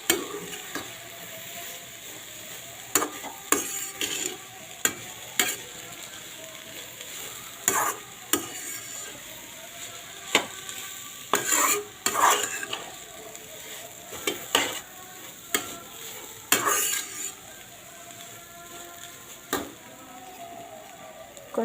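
Vegetables with chicken masala are stirred in a pan for an egg sandwich, with a soft sizzle under repeated sharp scraping and clinking of a utensil against the pan, close and irregular.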